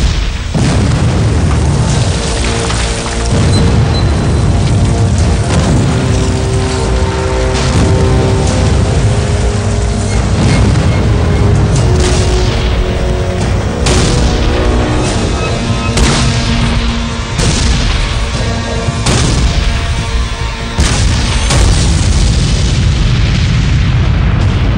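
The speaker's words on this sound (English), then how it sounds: "It's the largest artillery barrage ever in the Western Hemisphere." A dense, continuous barrage of heavy booms and blasts from the massive Gettysburg cannonade, explosions piling over one another loudly and without pause for the whole stretch.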